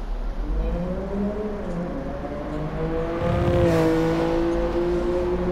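A Nissan Skyline GT-R R33 with a 2.6-litre 24-valve twin-turbo engine revs hard in the GT Sport racing game, its whine climbing and falling through gear changes, loud and continuous with a brief tire squeal.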